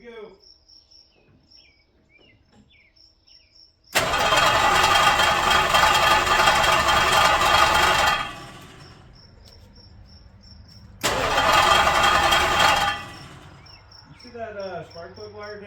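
Plymouth Fury 383 V8 cranking over on its first start, with two long bursts of starter whirring separated by quiet gaps and crickets chirping in the background, with voices nearby.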